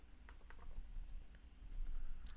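Quiet typing on a computer keyboard during live day trading, scattered soft key clicks in short bursts, close and faint with no talk.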